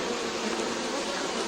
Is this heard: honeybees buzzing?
yes